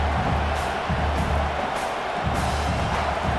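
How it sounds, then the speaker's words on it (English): A stadium crowd in EA Sports College Football 26 roars at full volume, a dense, unbroken wall of cheering noise that holds level for the whole stretch. "This crowd, full throat, splitting the eardrums and letting them know it's going to be a long day."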